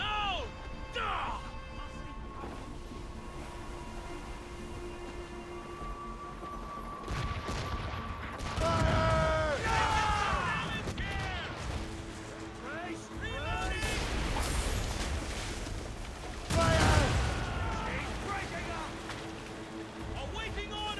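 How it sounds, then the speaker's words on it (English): Ships' cannons in Assassin's Creed Rogue boom in several heavy volleys and crashing impacts during a naval battle, amid waves and a rumbling sea backdrop, with shouted crew voices throughout. "They're firing"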